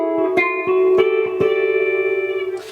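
Electric guitar plays a chord passage: a few sustained, effects-laden chords with reverb, each new chord struck roughly every half second and left ringing close and clear, no voices.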